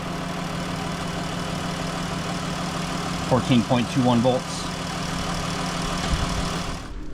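A van engine idling steadily while parked at a campsite, a continuous low hum running beneath brief speech throughout.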